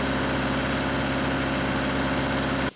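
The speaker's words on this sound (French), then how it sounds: "Le ventilateur s'enclenche, le ventilateur et sa chaîne de commande fonctionnent normalement." A car engine idles with its electric radiator cooling fan switched on, a steady loud hum and whir that runs without change, then cuts off abruptly at the end.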